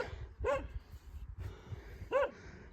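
Dogs in Gantal bark twice outdoors, two short sharp calls about a second and a half apart, over low wind and ground noise.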